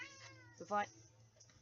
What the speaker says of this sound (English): He meowed at me. You probably could have heard him.